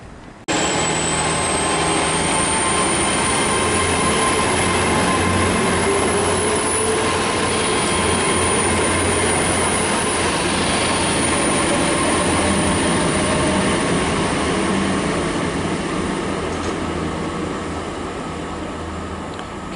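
Great Western Railway Class 800 unit, 800 025 on the rear, passing Bath Spa on a London Paddington service: a loud, sustained rumble and wheel roar with a high steady squeal on top, easing slightly toward the end.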